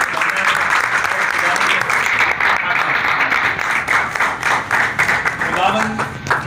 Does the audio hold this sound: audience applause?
yes